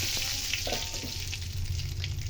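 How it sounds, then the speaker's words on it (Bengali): Cumin, bay leaf, asafoetida, cinnamon and small cardamom sizzle in hot mustard oil, a continuous crackling fry close up with a few soft stirring knocks. "তেলের মধ্যে দিয়ে দেবো জিরে, দিয়ে দিলাম তেজপাতা, দেবো সামান্য একটু হিং, দারচিনি আর ছোট এলাচ।"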